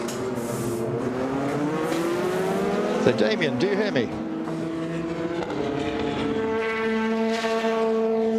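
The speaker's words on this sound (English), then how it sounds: "the cars start off on their first exploratory laps of free practice 2" Le Mans race cars on their first exploratory laps of free practice 2, their engine notes whining and rising in pitch as cars pass at a distance, heard beneath a commentator's steady talk.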